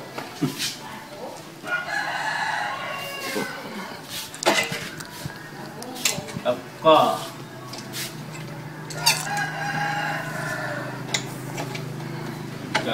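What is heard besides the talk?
fighting cocks crowing at a rooster camp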